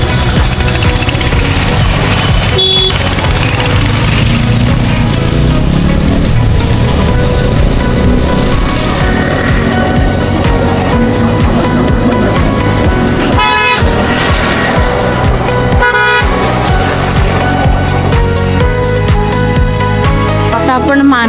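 Heavy holiday road traffic near Pen in Maharashtra, heard from a moving scooter: loud, continuous engine and wind roar with repeated car horn honks close by.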